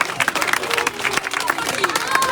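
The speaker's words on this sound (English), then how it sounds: "A round of applause." Audience clapping at a political manifesto event, a dense patter of many hands mixed with crowd chatter and voices, fairly close and steady throughout.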